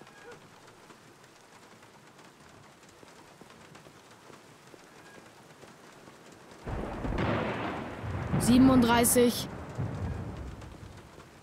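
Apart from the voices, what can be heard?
rain and thunder in a video game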